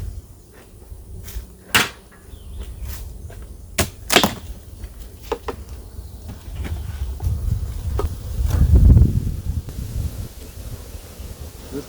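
Honey bees buzzing at an open beehive, a soft continuous hum close by with some rustling and a few knocks and clicks of hive handling.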